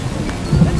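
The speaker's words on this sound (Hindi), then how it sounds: "बारिश अब भी वैसी की वैसी तेज होती रहती है।" Heavy rain pours steadily with a low rumble of thunder swelling in the second half, a dense continuous wash.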